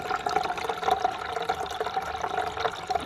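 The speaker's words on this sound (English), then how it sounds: "So we're going to put some water in." Water runs steadily into a motorhome cassette toilet's flush tank, a continuous close splashing and trickling fill with no talk over it.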